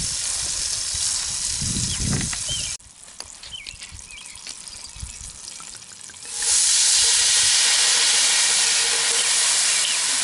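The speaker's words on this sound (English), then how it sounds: "I'm then going to deglaze the bottom with some wine" Chicken fries in a cast iron pan with crackling sizzle, then a brief quieter stretch before wine hits the hot pan and erupts into a loud, sustained rushing hiss of steam.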